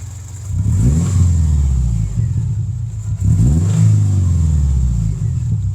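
A Subaru engine that blows blue smoke is revved twice in the open air, each rev swelling to a loud rumbling roar and falling back to a rough idle close by.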